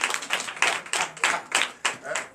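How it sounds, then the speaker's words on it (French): A church congregation at a Sunday worship service in Benin clapping in rhythmic bursts, roughly eight loud claps in a steady beat, heard close. "Et j'aime beaucoup ma fille Régis Radé, que je vous demande d'applaudir très fort."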